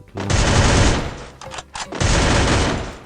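Loud rapid automatic gunfire in the mobile shooter Free Fire, two dense sustained bursts separated by a brief pause with a few single shots, close and booming, no voices.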